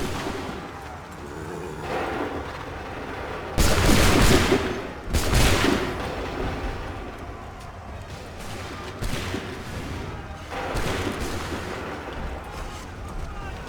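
Musket volleys in Assassin's Creed 3 roar out as massed fire, with two heavy crashing salvos up close amid steady rolling battle gunfire and shouted orders from a voice.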